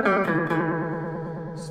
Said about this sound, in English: And a laser sound effect.